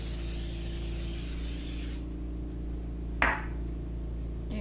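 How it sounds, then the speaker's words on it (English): Cooking spray is sprayed into a bread pan in a kitchen, a single short, sharp hiss that stands out against a steady background hum. "grab us another bread pan from behind us here. Spray it down good."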